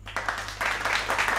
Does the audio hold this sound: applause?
yes